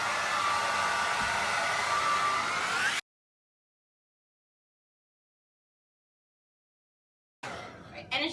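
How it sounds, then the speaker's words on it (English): A regular hair dryer with no diffuser blows through curly hair, a loud steady whoosh for about three seconds that cuts off abruptly, then returns briefly near the end. "I take my blow dryer and I just kind of blow dry all of it"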